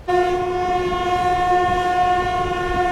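A passenger train runs steadily with a loud, sustained horn-like tone over the rumble of the cars.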